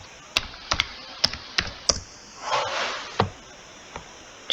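Clicks of a computer keyboard while editing text in Canva, a handful of separate close key taps spaced irregularly, with a brief soft rustle in the middle and no talking.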